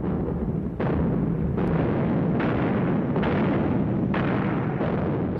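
A heavy artillery barrage during the Battle of Stalingrad gives a loud, dense rumble, with fresh explosions breaking in about every second over a continuous roar.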